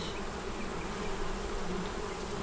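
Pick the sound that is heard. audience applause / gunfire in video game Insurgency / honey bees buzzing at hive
honey bees buzzing at hive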